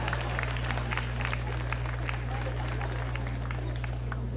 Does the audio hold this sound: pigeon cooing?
no